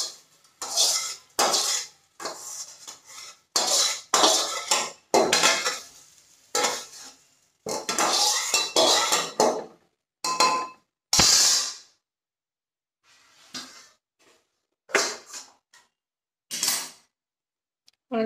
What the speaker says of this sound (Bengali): এই জলের মধ্যে লবণ, হলুদ আর একটু সামান্য চিনি দিয়েছি, ডালটা ঢেলে দেবো এর মধ্যে।